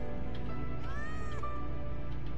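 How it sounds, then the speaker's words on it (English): A single cat lets out a clear, drawn-out meow in a video game, rising and bending in pitch over a steady background hum. "Good kitty."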